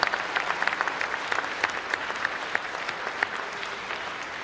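A Labour Party conference hall full of people applauds, dense clapping with sharper individual claps standing out, sustained at a steady level throughout.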